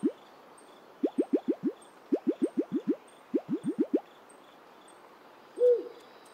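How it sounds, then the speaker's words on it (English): Repeated short hooting calls from an owl character in the video game Carto, coming in quick bursts of four or five close, clear notes, with a softer single call near the end over a quiet ambient background. "the owl with the shower cap on his head is back"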